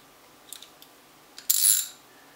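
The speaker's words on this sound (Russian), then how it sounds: "Сама рукоятка с трещоткой переключается направление." A multi-function universal wrench's ratchet handle being switched in direction: a few light mechanical clicks, then a short, louder metallic rasp close by, with no voices.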